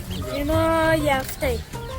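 Week-old live ducks at a poultry spot in Iran give harsh, buzzy calls in a steady run, close and fairly loud, with a clipped cry near the end.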